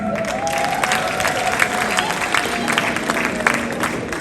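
A wedding crowd gives sustained, dense applause mixed with cheering, loud and continuous, with voices faintly audible underneath.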